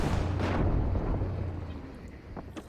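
Artillery shells land in the tank combat game Armored Warfare, a heavy rumbling blast around half a second in that decays into a long low roar, with faint later thuds.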